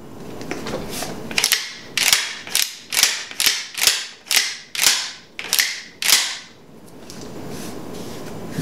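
The bolt of an American Tactical TacSX2 shotgun cycled repeatedly, about ten sharp metallic clack-and-slide actions in a steady rhythm, close and crisp with no talking.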